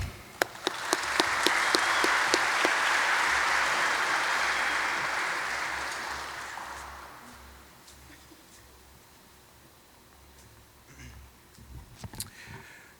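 Audience at a Link-Up (Qld) 40th anniversary gala applauds to welcome speaker Stephen Mam, a warm swell of clapping with a few sharp claps, fading out after about six seconds into near quiet.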